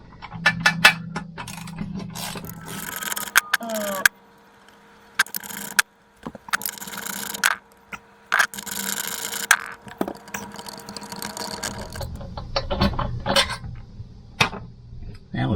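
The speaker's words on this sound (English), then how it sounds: "I need to get a socket and pull out those lag bolts." A socket ratchet backs out the lag bolts holding down a toilet, with quick runs of ratcheting clicks broken by pauses, metallic clinks and wooden knocks close by.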